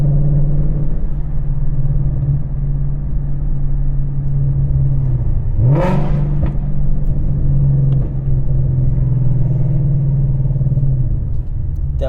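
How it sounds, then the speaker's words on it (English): A Ford Mustang S650 fitted with long-tube headers rumbles close by at a steady low drone, broken midway by one sharp rev blip as it downshifts, then settles back to the same rumble. "downshifts are super loud."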